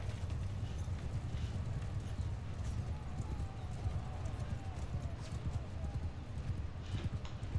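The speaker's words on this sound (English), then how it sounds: "So the horses are ready to charge them." Horses gallop in a cavalry charge in the Mount & Blade II: Bannerlord video game, a dense steady rumble of hoofbeats with a faint whinny, under a constant battle din.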